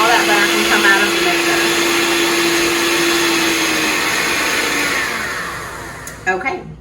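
Electric stand or hand mixer whirring on high speed while whipping butter for herb and honey butter, a steady loud motor drone that fades slightly near the end before a few clattering knocks.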